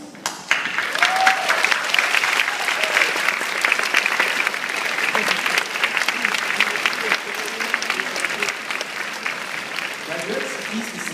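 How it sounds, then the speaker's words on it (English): An audience at a graduation ceremony breaks into sustained applause, a dense, loud roar of clapping that carries on for several seconds and eases slightly toward the end. "Please join me in a round of applause to thank the greatest people in our lives."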